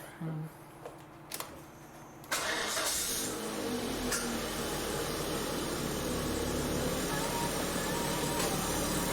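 A Volvo V40 engine starts after a few soft clicks, following exhaust down pipe and catalytic converter replacement, then idles steadily with a smooth, even rumble close by.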